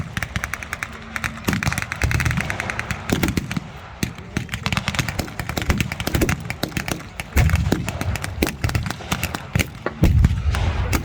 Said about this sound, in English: There goes the 6-pounder and one half-track is hit, taken out.